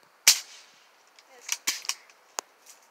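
Outdoor gunshots at cans and a glass bottle ring out as one sharp report, followed by a cluster of smaller cracks and metallic clinks, then a final single shot.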